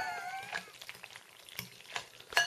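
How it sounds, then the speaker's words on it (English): Soft wet squelching and scraping of a spoon stirring a thick casserole in a pot, irregular strokes close up, with a faint meow-like squeak at the start. "You ready for it as I stir my casserole?"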